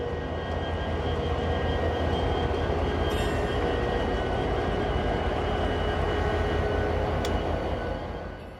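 CSX freight train switching cars with a rare GP60 locomotive trailing, a steady loud rumble of diesel engines and rolling wagons, with brief metallic squeals and a faint high whine throughout.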